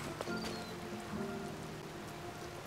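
Steady rain falls in The Legend of Zelda: Tears of the Kingdom, a constant even hiss of drops on surfaces with faint low in-game ambience and no voices.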